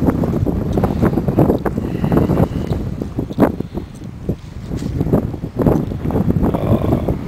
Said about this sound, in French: Toujours avec ce vent, hein. Je sais pas si vous entendez.